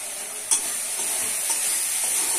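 Tomato, dried shrimp, bay leaves and Kashmiri chilli stir-fried in a hot pan, with a steady loud sizzle throughout and a few sharper scrapes of stirring, no voices.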